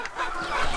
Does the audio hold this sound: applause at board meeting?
no